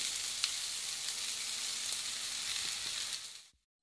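A sausage and vegetable egg hash sizzles under a hot grill while the egg white cooks: a close, steady, crackling fry that holds evenly for several seconds and then cuts off abruptly.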